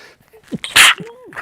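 A single sharp, loud sneeze close by, with a short breathy intake just before it, heard during live MotoGP race commentary at the Malaysia Grand Prix.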